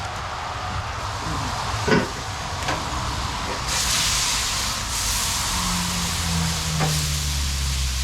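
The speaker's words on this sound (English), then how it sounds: "there's so much heat still on the griddle that meat is still simmering" Sliced beef for Philly cheesesteaks simmers on a Blackstone griddle at lower heat, giving a steady soft sizzle and hiss with a few faint clicks and pops over a low background hum, with no one speaking.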